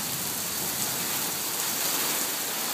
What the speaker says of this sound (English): that's some good rain